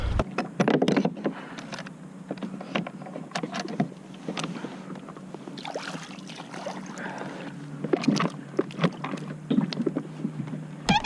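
A boat is dragged upstream through a river, with irregular splashes, scraping and sloshing of water, some bursts louder and close, alongside wind noise.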